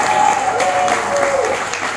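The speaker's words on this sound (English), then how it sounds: "Give the bride and the groom a round of applause." Wedding guests give the bride and groom a round of applause, a steady wash of crowd clapping filling the room, with a faint voice running underneath.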